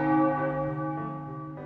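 A church bell tolls in the video game Lawmage Academy, a single resonant ring decaying over nearly two seconds.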